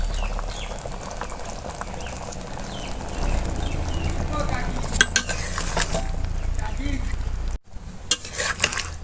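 Fish and bottle gourd curry stirred in a pan, with repeated scraping and clinking of a spoon against metal over a low, continuous sizzle, a brief gap before the stirring resumes.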